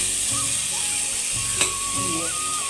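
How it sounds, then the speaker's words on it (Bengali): Soaked broken wheat dalia fries in a pan with a loud, continuous sizzle, with a brief stirring clink partway through. "ডালিয়াটাকে কতক্ষণ ভেজে নেব ডালিয়াটাকে আমি ছেড়ে দিচ্ছি"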